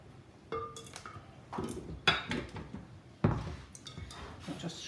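Shortbread dough scraped off the inside of a blender bowl, giving a run of irregular scraping and knocking sounds, with a few sharp clinks against the bowl, close by in a home kitchen.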